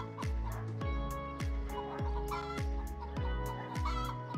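Chickens cluck in a steady run of about eight short, evenly spaced clucks over a sustained musical backing, fairly loud and close, with no talking.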